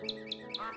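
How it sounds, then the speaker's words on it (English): Minecraft bird tweeting, four short, evenly spaced high chirps in quick succession, fairly faint, over a low background hum. "It's just a tweeting bird"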